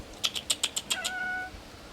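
A cat meows in a drawn-out, rising call after a quick series of light clicking taps; fairly close and clear, with no talking.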